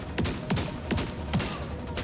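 Gunfire in a shooter video game comes as quick bursts of sharp, moderately loud shots, about four clusters in two seconds at a steady pace, with no talking.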